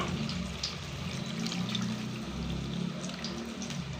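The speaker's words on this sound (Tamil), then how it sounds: "இப்போ அந்த தண்ணியை நம்ம இதில் ஊற்றிக்குவோம்." Tamarind water pours into a cooking pot for a brinjal dish, a steady close splashing and gurgling of liquid running continuously for a few seconds without any talking.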